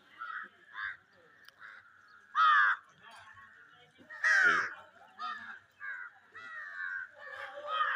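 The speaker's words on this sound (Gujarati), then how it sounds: "એટલી જગ્યા આ બધી કાગડા લાગટ કાગડા છે" Several crows caw repeatedly at the Swaminarayan temple in Chhapaiya near Ayodhya, some nearby and loud, others farther off, their harsh calls overlapping in an irregular chorus.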